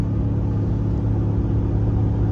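Ram truck with a Hemi engine at full throttle while towing chicken coops, a loud steady low engine drone and road rumble inside the cab, with no variation and no talking.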